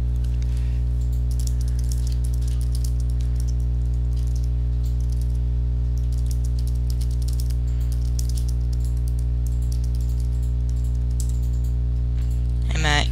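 Rapid clicking keystrokes on a computer keyboard, a busy run of light taps over a loud, constant low hum, close, with a short burst of speech near the end.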